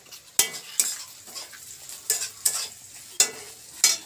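Green chillies frying in a pan of oil for homemade chowmein, a soft steady sizzle broken by sharp, regular clinks of a spatula against the pan, fairly quiet and with no voices.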